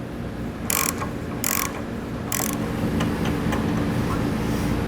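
A 12 mm by 1.25 thread tap being turned into a bolt hole on a 2009 Kia Sedona frame to clean the threads, with three short bursts of ratcheting clicks over a steady low mechanical hum.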